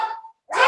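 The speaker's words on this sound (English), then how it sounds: "Sorry, that's my dogs." Dogs barking indoors during a home video call, a loud close bark followed after a short gap by a second sharp yelp.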